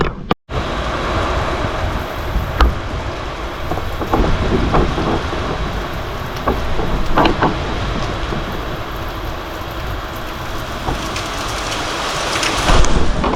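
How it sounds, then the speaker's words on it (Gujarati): Heavy monsoon rain pours down outside in a steady, loud, unbroken roar, with occasional low rumbles that may be thunder and scattered sharper drops and knocks on nearby surfaces. "વરસાદ ચાલુ થયો છે જોરદાર"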